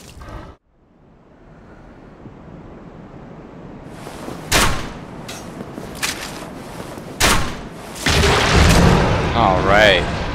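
Crossbow shots at a drake's tail in the video game Dark Souls, a handful of sharp, loud impacts spaced a second or two apart over rumbling game ambience after a quiet start.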